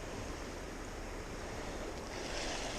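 Steady rushing water from river rapids fills the scene, a broad, constant outdoor roar with some wind noise, with no pauses or breaks.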